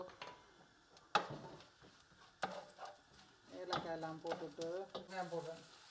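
Spices such as cinnamon and cloves crackle and sizzle softly in oil and ghee in a pan, with scattered pops, a few sharp clinks of a utensil, and quiet voices in the background.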